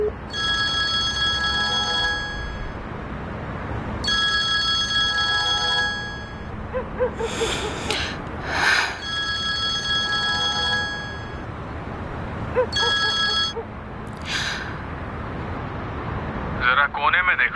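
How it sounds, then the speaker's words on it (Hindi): A telephone rings with an electronic ringtone in repeated bursts, each about two seconds long, with short gaps between them. Someone talks over and between the rings, and there is a brief burst of other noise near the end. "किसी का फोन आ रहा है"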